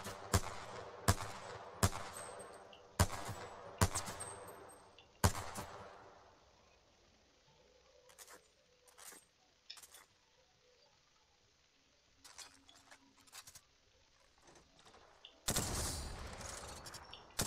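Sharp gunshots crack at the firing range in the video game Apex Legends, a string of loud single shots early, then sparser quieter bursts, ending in a denser rattle of fire.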